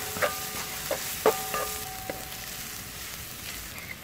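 Shallots and lemongrass, about 60 g, stir-fry in a pan for chicken braised with lemongrass and chili, with a soft steady sizzle, broken by a few sharp scraping clinks of a utensil against the metal.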